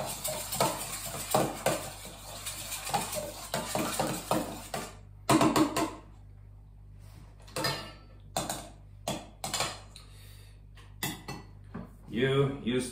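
Hamburger mince and pepper get mixed in a bowl, giving intermittent scraping and clinking of utensil against dish, spaced bursts between stretches of someone talking.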